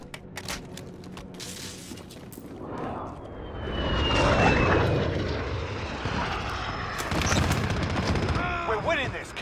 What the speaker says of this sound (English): Friendly VTOL on station for overwatch.